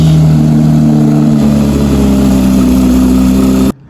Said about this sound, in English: Starting up this old junker.